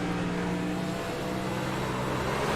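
A race car engine in a sim racing game at New Hampshire, droning steadily at high revs with a continuous loud buzzing roar and slight pitch shifts as it works through the gears.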